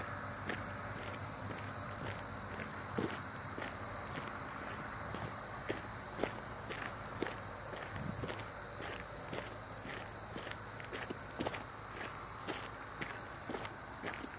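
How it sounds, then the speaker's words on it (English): Crickets chirp in a steady, faint, high-pitched drone outdoors in September, while footsteps fall in a regular rhythm along a walk to the mailbox. "Crickets are chirping."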